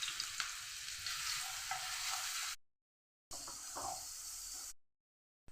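Chillies, garlic and sambar paste sizzle in a pan, a bright, dense hiss of hot oil close up, broken by two abrupt silent gaps, with a faint clink of a utensil.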